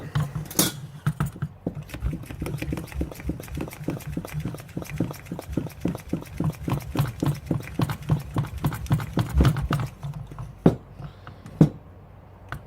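An MSR XGK EX camping stove is primed up close, with a fast, regular train of clicking, hissing pulses that runs for several seconds, then thins to a few separate clicks.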